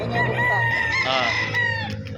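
Rooster at a game farm in Santo Tomas, Batangas, crowing loudly and close, one long drawn-out call over a steady background hum and other farm fowl.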